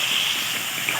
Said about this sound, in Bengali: আমরা এতে পরিমাণ মতো জল দিয়ে দেবো